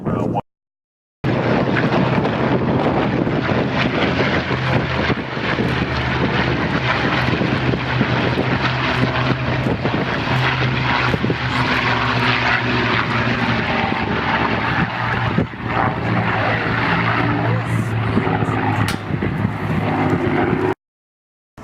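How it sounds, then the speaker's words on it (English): Loud, sustained roar of piston-engined World War II-era ground attack warplanes, including a P-51 Mustang, passing overhead in formation, a continuous droning rumble with shifting pitch as several planes fly by together. "The airplanes are going to join up on the downwind. We're going to try a couple of formation passes"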